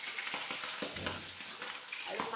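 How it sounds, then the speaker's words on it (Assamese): Pre-boiled pork fries in oil in a wok with a continuous close sizzle, punctuated by light scraping stir strokes and small spatters, no voices. "মাংসখিনি অলপ ফ্ৰাই কৰি ল'ম"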